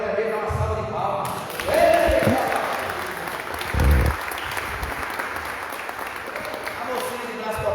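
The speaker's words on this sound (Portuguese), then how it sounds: "Vem na vitória dele, dá uma salva de palmas." Congregation applause fills a church service, a loud continuous crowd clapping with a voice speaking over it and a few louder swells and thumps along the way.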